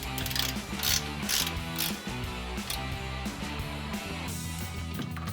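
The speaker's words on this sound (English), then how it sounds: "we're gonna grab our 18mm ratchet wrench and tighten those down" An 18mm ratchet wrench clicks rapidly and steadily as it tightens locking nuts on a 2009-2018 RAM 1500 front control arm, the dense pawl ratcheting loud and close throughout with no talking.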